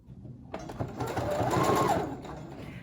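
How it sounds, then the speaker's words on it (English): A sewing machine stitches around the edge of a fabric face mask. Its close, steady mechanical whir starts after a brief quiet moment and runs continuously to the end. "now we just need to sew all the way around this one more time"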